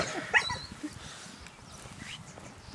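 A homestead dog barks sharply a few times early on, then gives high whimpers and yips at a moderate distance over a quiet outdoor backdrop.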